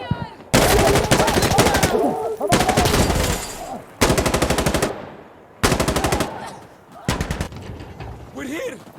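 Heavy automatic gunfire in Insurgency: Sandstorm PvP combat comes in several loud, sustained bursts with short pauses between, close and dominant, with brief voice chat near the end.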